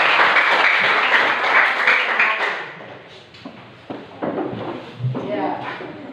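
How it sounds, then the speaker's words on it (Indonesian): Children in a classroom clap their hands in a dense, brisk burst that fades after a few seconds, followed by scattered taps as voices carry on. "tepuk tangan dulu anak-anak semua"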